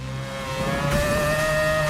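A rotary-engine race car in a video game revs up to a high, steady whine, its pitch climbing and holding with a buzzy, raspy edge.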